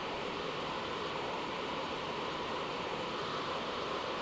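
Steady broadband roar of an aircraft engine in Microsoft Flight Simulator 2024, a constant loud rushing drone with no breaks, flying over Africa.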